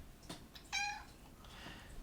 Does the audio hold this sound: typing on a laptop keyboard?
no